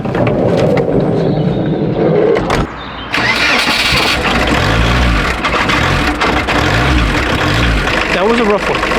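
A campervan engine cranks, stutters and catches roughly, then settles into a loud, uneven running idle with wavering revs, nearby and with a voice heard over it.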